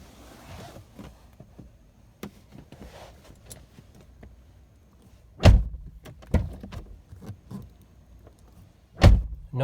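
A 2008 Hyundai Accent car door, just fitted with a new door checker, opens and shuts from the inside in several clunks, with a few lighter clicks and latch sounds before three firm, close slams.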